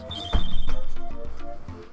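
A cell phone rings in the Super Mario RPG video game, a steady trilling tone with rapid pulsing that sounds close and clear for about two seconds.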